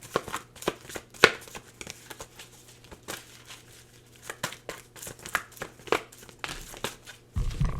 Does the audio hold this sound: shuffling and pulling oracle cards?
yes